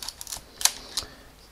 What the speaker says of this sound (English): if we press that self-timer, you can see it flashing, and after, I think it's 10 seconds, it will click